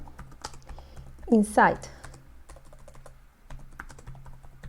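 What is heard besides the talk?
typing C++ code on a computer keyboard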